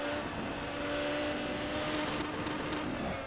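A Ferrari 355 Challenge car in a racing video game holds its engine on the rev limiter in third gear, a loud, steady, high-pitched whine.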